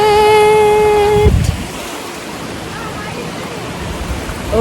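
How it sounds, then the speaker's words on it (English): A waterfall at the end of a hiking trail near Mcleodganj, Himachal, gives a steady broad rushing roar, preceded by a short whistle-like tone at the start. "we finally made it to the waterfall"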